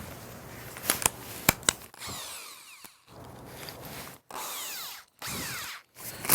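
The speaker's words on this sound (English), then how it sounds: "now drill out the second hole" A power drill whirs in several separate bursts drilling a hole, starting and stopping with short pauses between, after a few sharp clicks at the start; close and moderately loud.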